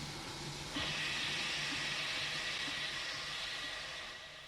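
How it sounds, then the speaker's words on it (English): Animated cartoon steam engine: a sudden loud whoosh of escaping steam that keeps hissing steadily for several seconds before fading slightly, with a low rumble underneath. "Thomas tried to whoosh some steam at him."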